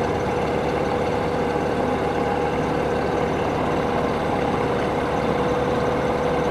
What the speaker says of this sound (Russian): Прогреваем двигатель.